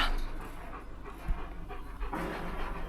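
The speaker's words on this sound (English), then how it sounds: "You got your dog." A dog on a South African farm pants quickly and rhythmically close by, soft breaths repeating through the short clip with faint outdoor background.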